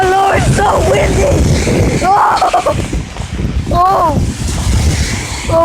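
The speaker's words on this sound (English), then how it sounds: "Oh Lord, it's so windy." Strong wind during a hard rainstorm buffets the microphone in a loud, continuous, gusty roar, with a person's exclamations and talk heard over it.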